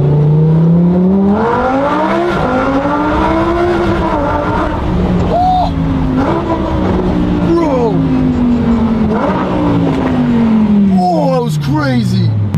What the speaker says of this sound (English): How can a car sound like that?